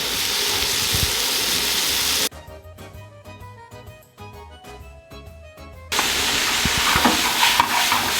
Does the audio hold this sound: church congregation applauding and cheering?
no